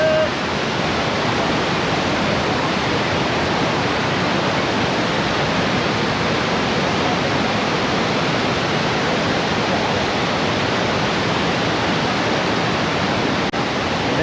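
A waterfall at the top of Kumbharli Ghat on the Chiplun–Karad road, roaring steadily and loudly, a dense unbroken rush of falling water with no pauses.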